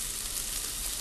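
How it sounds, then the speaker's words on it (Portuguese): Chopped onion and bacon fry in a hot pan, giving a steady, close, hissing sizzle that carries on evenly with no talk over it. "eu vou esperar dar uma fritadinha nessa cebola, nesse bacon"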